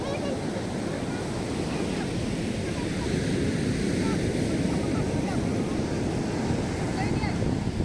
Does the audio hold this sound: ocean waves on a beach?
yes